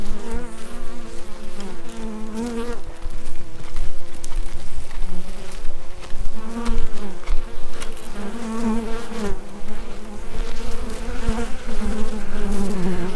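Honeybees buzzing around a beehive in autumn, a dense steady drone of many wings that stays loud and close throughout, with individual bees rising and falling in pitch as they pass.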